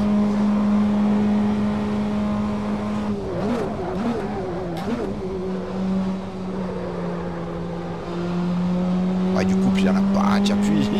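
A race car engine in Assetto Corsa, sounding like a motorbike engine: a steady loud droning hum that wavers and revs briefly mid-clip before settling, with faint talk in the background.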